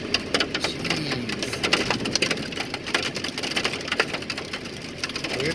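Hail hammers a vehicle in a 2019 hailstorm, a dense, loud, continuous rattle of rapid hard impacts with no pause and no talking.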